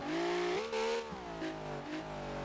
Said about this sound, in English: This engine is way too loud.